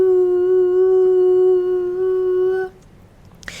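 One long, low vocal chant of the word "HU" is held on a steady tone for nearly three seconds, close and clear, then stops into near silence.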